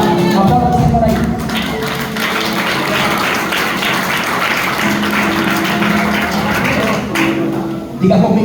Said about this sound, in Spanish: Aplaudan al Señor ahí.